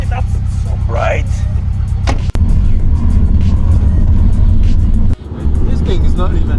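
Subaru STI engine droning inside the car on a drive, a steady low rumble with people talking and cheering over it, and a couple of brief dips in the noise.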